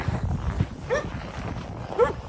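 A dog in a wintry village yaps twice from a distance, two short, spaced barks over low background noise.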